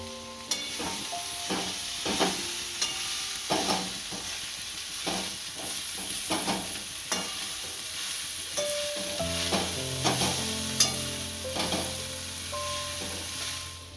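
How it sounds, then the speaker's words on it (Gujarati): Radish greens sizzle in a hot pan while a spoon stirs and scrapes in repeated strokes, the frying hiss constant underneath. "આ મૂળાની ભાજી નાખી દેશું. અને સારી ભેળવી નાખશું."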